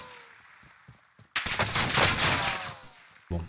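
Automatic gunfire bursts loudly in the video game Caldera, a dense rapid rattle that erupts suddenly after quieter moments and runs for about two seconds, followed by another sharp burst.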